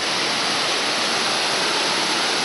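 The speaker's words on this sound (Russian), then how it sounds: "сейчас мы пробираемся к Змейкивским водопадам" Rushing water at the Zmeikovskie waterfalls, a steady, loud and dense roar of falling water filling the whole clip without any voices.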